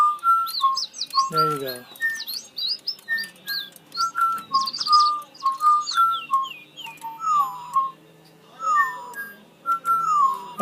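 Battery-powered toy singing birds whistle a tune played from an app, with bright chirping phrases that repeat in quick, uneven bursts close to the microphone. A short spoken remark comes near the start.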